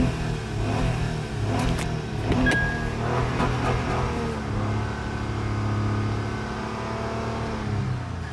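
A 2008 Acura TL engine idling steadily with a smooth, even hum, close by and alone with no talking, with a few brief light clicks early on.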